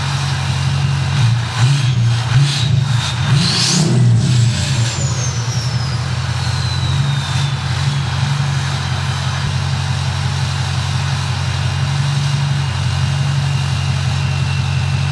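A Ford 6.0 Powerstroke diesel truck engine runs loud and close with a constant deep rumble, and a thin whistling tone slides downward partway through.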